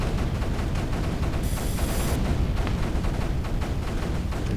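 Cannon and mortar fire in the strategy game Creeper World 3, a dense continuous barrage of rumbling booms and crackling blasts, loud and steady throughout with no voices.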